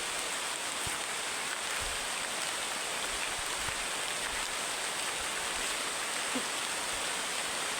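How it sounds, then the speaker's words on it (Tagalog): Steady, dense hiss of heavy rain pouring down, continuous and even throughout with no voices. "Tigas ang ulan eh"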